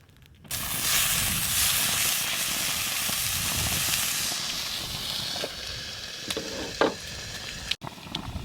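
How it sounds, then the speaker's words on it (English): Burgers cooking over a campfire at a desert campsite, giving a steady sizzling hiss that runs continuously, with a few faint pops and small knocks near the end. "we're just cooking burgers, gonna chill around the fire"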